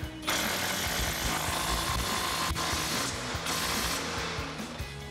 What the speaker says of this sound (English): we'll grab our 21 mil socket on our impact for this lower one